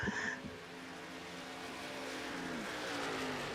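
LEC NextGen Series race cars on the track at Pocono during the 2022 Carole Massengill Memorial make a continuous roaring engine drone that swells slightly, a sustained wash of racing noise with no clear single pass.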